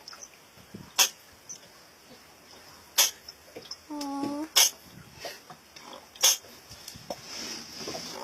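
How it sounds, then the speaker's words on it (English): A sea turtle injured by a piece of plastic sneezes four times in sharp, forceful snorting bursts spaced a second or two apart, up close, with a brief murmur from a person in between. "Have you ever heard a turtle sneeze?"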